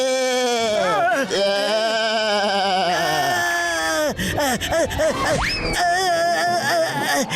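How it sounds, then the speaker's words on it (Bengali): Cartoon goat bleating in a long, loud, wavering series of voiced bleats from the Motu Patlu animated show, close and continuous, with pitch sliding up and down and no other talk. "এই ছাগলটা আমাদের পেছনে পড়ে গেছে।"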